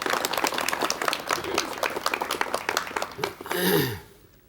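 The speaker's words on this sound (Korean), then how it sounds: "여러분 박수로 환영해 주시면 대단히 고맙겠습니다." A studio audience on a 1987 KBS talk show claps to welcome a guest, a few seconds of brisk, close clapping that thins out and fades near the end.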